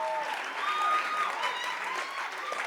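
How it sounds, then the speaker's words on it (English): An audience at a jazz music workshop applauds steadily, a dense wash of clapping that holds at moderate loudness with a few faint voices mixed in. "Let's give them another round of applause"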